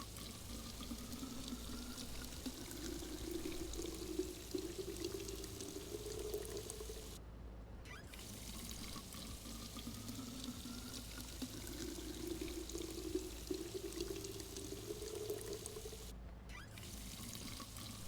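Water glugs and trickles out of bottles in Drug Dealer Simulator, a faint, continuous pour broken by two brief pauses.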